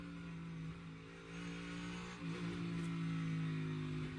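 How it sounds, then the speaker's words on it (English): A NASCAR Cup race car at the Indianapolis Brickyard on a slow section of the road course, its engine droning at low steady throttle from a distance, then rising slightly in pitch partway through, with no voices. "Listen to the throttle, how slow this part of the racetrack is."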